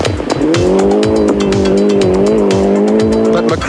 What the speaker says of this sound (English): the Celica blitzes the stage